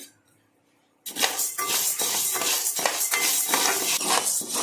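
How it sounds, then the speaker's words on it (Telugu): Urad dal being stirred and fried in a pan on the stove, a dense, steady scraping and rattling of dry lentils against metal that starts abruptly after a quiet second and continues loudly without pause. "ఇలా తిప్పుకుంటూ అయితే ఫ్రై చేసుకోవాలి"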